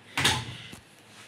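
A front-loading washing machine door swung open with one sharp latch click and a short thud, then a faint second knock as it settles, close by and alone.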